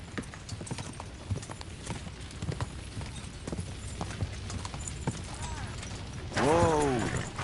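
A horse's hooves clip-clop in quick, steady beats through most of Kingdom Come: Deliverance II, fairly close and moderately loud, ending in a louder whinny-like call with a burst of game sound.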